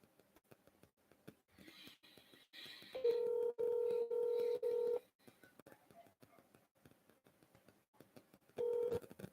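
Telephone keypad dialing tones during a commercial real estate cold call: a series of short, loud, evenly spaced beeps, a pause filled with faint background noise, then one more beep near the end.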